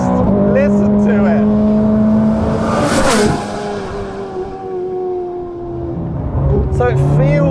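A Ferrari 458 Speciale's engine climbs through the revs with a rising, strained note, peaks about midway, then settles to a steadier drone that builds again toward the end; the sound is loud and close with talk underneath it.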